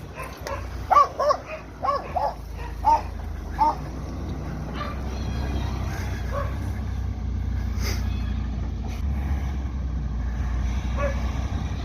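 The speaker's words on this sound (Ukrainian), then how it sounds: "Злий пес." A dog barks several times in quick succession near the start, then falls quiet under a steady engine rumble.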